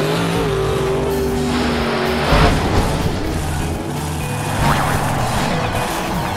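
An animated monster truck jumps over buses with a continuous loud engine roar, a sharp surge and burst midway, then the roar carrying on alone.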